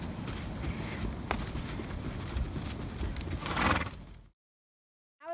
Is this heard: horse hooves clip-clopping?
yes